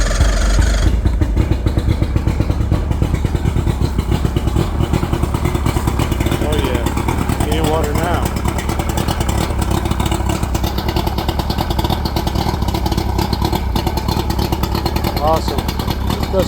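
A 90 hp Mercury two-stroke outboard motor starts and runs, holding a loud, steady, buzzing idle with a rattly rhythmic pulse throughout while people talk over it.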